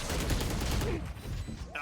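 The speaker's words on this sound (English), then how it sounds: "Orbital strike ripping through, doesn't get anyone, but Leo has the lineup" An orbital strike cannon in an esports video game match fires in a dense burst of rapid, crackling explosive blasts that fade out over about two seconds, with brief game effects after.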